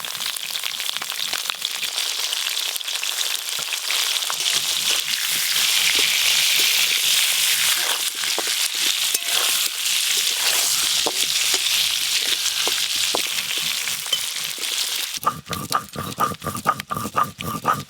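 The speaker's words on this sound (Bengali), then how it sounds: "তেল গরম হয়ে গেছে, এই আলুগুলো ভেজে নেব।" Potatoes (sweet potatoes) frying in hot oil for a village-style chicken curry, a loud, dense crackling sizzle running steadily, then sharper bubbling and stirring near the end.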